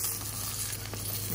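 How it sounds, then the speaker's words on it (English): Eggs sizzle in a hot pan with a steady crackling hiss, close and continuous, brief and without voices. "she just brought out this like sizzling thing of egg."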